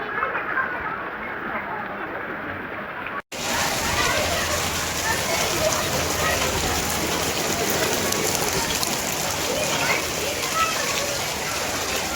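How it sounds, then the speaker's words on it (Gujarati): Steady rain pours over a flooded SMC tenement housing area in Surat, a dense continuous wash of drops heard close, with people talking throughout. "કેટલા કલાકથી વરસાદ ચાલે છે અહીંયા"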